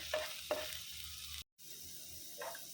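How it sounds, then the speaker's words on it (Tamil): Six small cloves of chopped garlic sauté in a pan with a soft, steady sizzle, broken by a few scraping stirs and one brief dropout. "இதை லைட்டாக கொஞ்சம் நேரம் வதக்கி விட்டுக்கலாம்."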